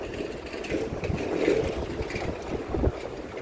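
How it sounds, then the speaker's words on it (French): Wind buffets the microphone outdoors in Paris near the Louvre, rumbling low gusts that swell and fade unevenly with a few sharper thumps, no voices heard. "Il y a du vent, les amis, il y a du vent."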